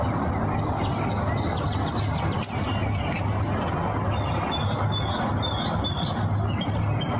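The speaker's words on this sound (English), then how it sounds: "this was late at night, you could hear the birds chirping." Faint, repeated bird chirps late at night, high above a steady low rumble of traffic or machinery, continuous throughout.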